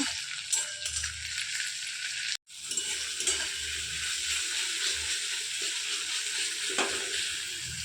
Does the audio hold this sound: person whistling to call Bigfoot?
no